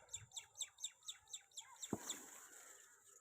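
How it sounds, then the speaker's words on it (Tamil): A sparrow calls from a tree, giving a rapid series of about eight loud, bright chirps close by, followed by a sharp thump and lingering rustle. "ஒரு குருவி ஓவராக சவுண்டு விடுது"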